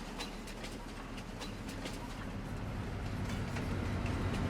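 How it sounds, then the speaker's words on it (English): A train pulls in inside the Farming Simulator 22 game, a steady rumbling rail roar that slowly grows louder as it nears, with faint rhythmic clacks and no voices. "Alright, the train is very close."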